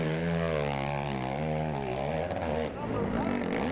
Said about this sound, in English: Just burying the throttle on that Yamaha 450.